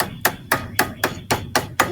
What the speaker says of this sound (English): and I start hammering the end down